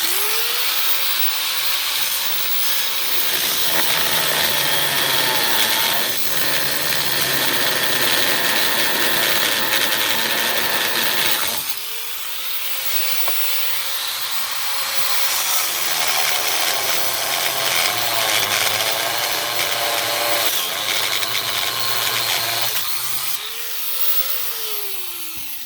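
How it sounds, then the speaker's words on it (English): A power saw cuts through the metal of a Jeep Cherokee XJ door, whining loudly in long continuous cuts, the motor pitch sagging under load and recovering as each pass ends. "Sawzall, cutting wheel, really doesn't matter. And yeah, cut this bottom part off right here."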